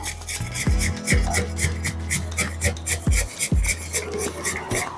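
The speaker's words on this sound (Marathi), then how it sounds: "थोडं गाजर आपण किसून घेऊया" Carrot being grated by hand on a kitchen grater, a quick rhythmic series of close rasping scrapes with small knocks, about two strokes per second, loud and steady.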